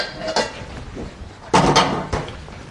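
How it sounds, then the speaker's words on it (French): Saucepan taken out and handled in a kitchen during a chocolate ganache pastry demonstration, giving a few clanking metal knocks and scrapes, with two louder clatters in the middle, fairly close and with no talk over them. "On va prendre une casserole."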